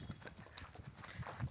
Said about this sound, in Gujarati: ઘોડી લઈને આપણે ઉપડી ગયા છે ધબડાક